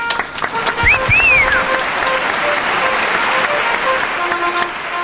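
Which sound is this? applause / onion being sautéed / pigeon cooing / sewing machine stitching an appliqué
applause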